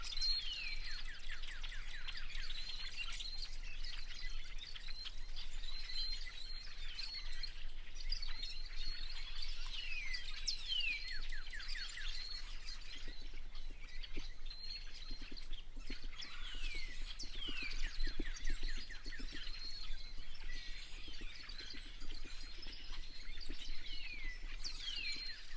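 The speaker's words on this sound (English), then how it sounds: "Hope you can hear that bunch of birds." A bunch of birds calling from the brush along the Piedmont Loop hiking trail in Haw River State Park, North Carolina, with dense overlapping chirps and trills throughout, fairly faint and steady, with no talk.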